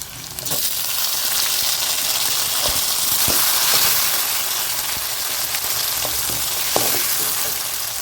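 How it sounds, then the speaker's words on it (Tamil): Steady, loud sizzling of onions and tomato frying in a pan, with occasional clinks and stirring sounds over the continuous hiss. "வெங்காயம் ஓரளவு வதங்கிடுச்சு தக்காளி போடலாம்"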